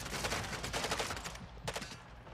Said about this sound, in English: Be careful of that shooting behind you.